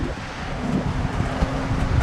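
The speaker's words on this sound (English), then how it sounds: "Sea's pretty cool, flattish, little chop, nice wind, perfect sailing conditions." Wind at sea aboard a single-handed sailboat making good speed over flattish water with a little chop, a steady, continuous broadband rush and buffeting close to the microphone with no talking.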